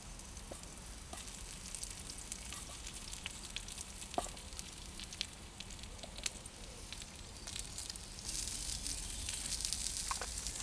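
Ghee sizzles and crackles in a pan on a Trangia spirit stove inside a Bushbox XL windbreak, out in the woods. The frying stays steady and soft with scattered small pops, swelling slightly louder toward the end.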